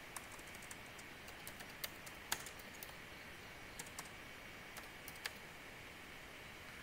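Fairly faint keystrokes on a computer keyboard, scattered irregular clicks over several seconds in a quiet room with steady background hiss.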